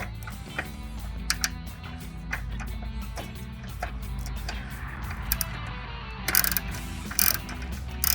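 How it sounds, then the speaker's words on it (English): Ratchet with a 10mm socket loosening a nut under the hood of a 2019-2023 Silverado or Sierra 1500 during a cold air intake install, giving a continuous close clicking and ticking with a few louder clanks near the end. "We're gonna go ahead and remove this nut with a 10mm socket."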